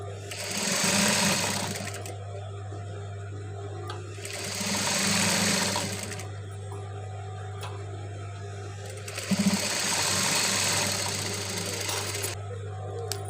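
A sewing machine stitches the side seam of a dress in three long runs, each stopping and starting again. It is loud and close, with a steady hum underneath between the bursts.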